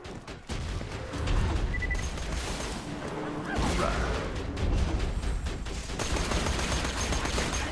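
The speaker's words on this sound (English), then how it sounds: "Taking the shot." Gunfire from the shooter game Borderlands 2: sharp bursts and a loud sustained barrage of shots with mechanical clatter, close and dense, with no talking.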